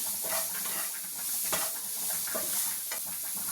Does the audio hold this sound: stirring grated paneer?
yes